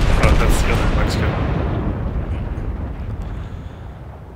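A battleship's heavy guns fire in the naval video game World of Warships, a loud booming blast that rolls off into a long, fading rumble.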